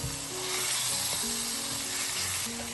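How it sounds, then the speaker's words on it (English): Sepia frying on a hot plancha in olive oil, a dense steady sizzle and hiss that fills the whole clip up close, with faint low background hum beneath. "In she goes and it's sizzling away."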